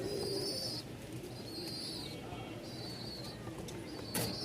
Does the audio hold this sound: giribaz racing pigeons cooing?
yes